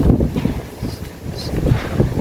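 Strong storm wind on a rooftop buffets the microphone in heavy, uneven gusts for a couple of seconds, loud and rumbling, with no voices.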